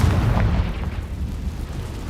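A Confringo spell explosion in Hogwarts Legacy, a deep, loud rumbling boom that fades slowly into a low roar, with no talk.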